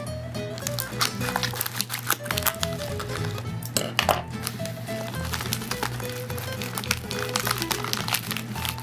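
A slime shop package is opened and unwrapped up close, with dense crinkling plastic, rustling paper and small clicks and taps running continuously, while faint voices murmur in the background.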